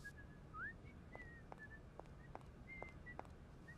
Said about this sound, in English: God, I remember this whistling so well.